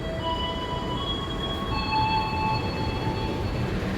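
The Anggrek express train between Jakarta and Surabaya rumbles steadily along the rails with a constant low roar, faint thin wheel squeals running above it throughout.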